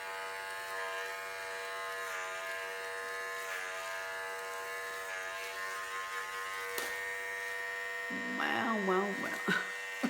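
An electric hair clipper shaving a head in a kitchen, a steady close buzzing hum that changes pitch slightly as it passes over the scalp, with a voice speaking briefly near the end.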